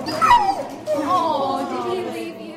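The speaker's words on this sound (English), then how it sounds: "your everyday 5-month-old puppy" A five-month-old puppy whimpers and yips up close, a loud, drawn-out whining cry that rises and falls in two long bursts with no talk over it.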